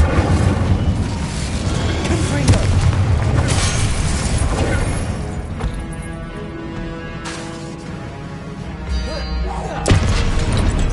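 Spell effects cast in the Hogwarts Legacy video game, including disarming and fire spells, sound as loud, continuous booming bursts and crashes under game music, with a voice speaking spell names over them.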